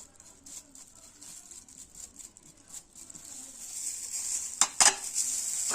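Beef for shawarma stirred with spices in a hot pan, a soft sizzle with scraping and clattering of a utensil against the pan, growing louder toward the end with a few sharp metallic knocks.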